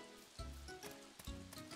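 Rain falls in the farming video game Story of Seasons: Pioneers of Olive Town, a steady soft patter under the game's melodic background music, heard without speech.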